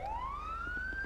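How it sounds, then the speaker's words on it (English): A police car siren in GTA 5 wails from a rising tone to a higher sustained pitch, clear and fairly close over a low engine hum, with no talking. "Shut your siren up, man."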